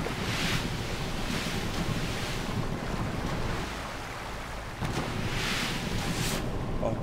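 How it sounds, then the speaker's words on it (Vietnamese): Ocean waves wash and roar around a boat out at sea in the video game GTA 5, a loud steady rush with periodic surging swells and wind, with no talking. "ngoài đây sóng biển nó lớn các bạn"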